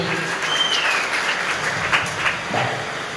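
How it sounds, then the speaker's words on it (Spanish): A crowd breaks into applause, a steady wash of clapping that holds throughout, with a few voices faintly mixed in. "un aplauso para el hermano amén aleluya."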